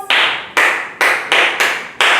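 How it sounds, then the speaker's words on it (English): Children in a phonics reception class clap together for themselves, giving five or six sharp, evenly spaced group claps in a steady rhythm, close and loud with no talking. "Let's clap for ourselves"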